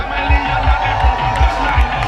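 Carnival launch crowd in Toronto, a loud sustained roar of cheering and screaming with rhythmic thumping underneath, steady throughout.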